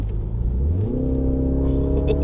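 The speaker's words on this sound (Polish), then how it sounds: "Słychać strzały z wydechu." A MINI Countryman petrol engine in sport mode revs up with a rising, throaty drone, loud and close, followed by a few faint popping crackles from the exhaust.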